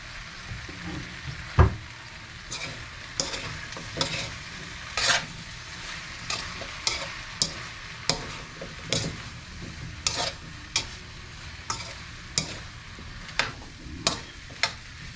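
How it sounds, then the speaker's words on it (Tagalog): A frying pan of food seasoned with black pepper sizzles gently while a utensil scrapes across it in a steady, regular stirring rhythm of repeated strokes. No one speaks. "Then haluin muna natin."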